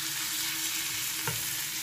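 Capers sizzle steadily in garlic and butter in a pan, a continuous close frying hiss with one brief clink or stir near the end, no voices.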